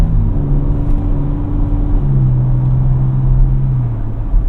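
A 2026 Ford Ranger Raptor pickup's engine heard from inside while driving, a loud steady low rumble with a droning tone that rises slightly in pitch, under cabin road noise and with no talking.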